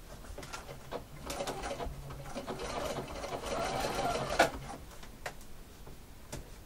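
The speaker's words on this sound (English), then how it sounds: "I'm happy with that, and then start sewing" A sewing machine stitches fabric with piping around a corner in short mechanical runs and pauses, close and fairly steady, with a brief sharper knock near the end.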